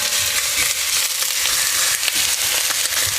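Chicken pieces fry and brown in the fat rendered from their own skin, crackling loudly and steadily with sharp pops and spits scattered through the close sizzle.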